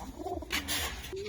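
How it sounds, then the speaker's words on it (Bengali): Racing pigeon giving a soft, low coo in a short rising-and-falling phrase, faint and close, with a brief rustle partway through. "ভাই নিজের পাল্লা করা আরেকটা কবুতর দেখেন"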